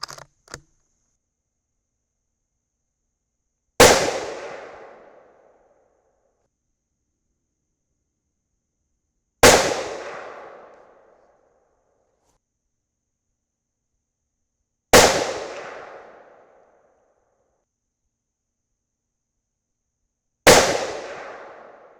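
Four loud single rifle shots fired through a Gamma 6.5 muzzle device at a 6.5 mm barrel test, each sharp report decaying slowly, spaced several seconds apart in otherwise quiet surroundings.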